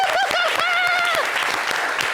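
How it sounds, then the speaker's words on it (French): A television studio audience applauds loudly and close, with sharp individual claps, while a voice calls out in sustained, sing-song tones over the clapping. "On applaudit pour lui."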